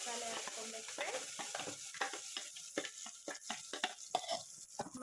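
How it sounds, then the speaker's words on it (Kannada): Ground masala sizzles in a tempering pan with curry leaves for a honagone greens bassaru, a close crackling fry broken by frequent irregular stirring scrapes and bursts. "ಮಸಾಲೆ ಕುದೀತಾ ಇದೆ."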